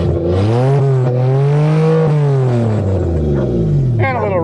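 A 1982 Toyota Cressida V6 engine revs loud and close, rising and falling in pitch through several throttle blips before a fresh rev at the end.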